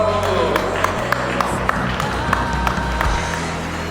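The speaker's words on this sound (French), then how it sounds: "Je vois qu'on va pouvoir les applaudir." Loud applause from a gathered congregation at a baptism, steady clapping throughout with speech over the top, close and dense.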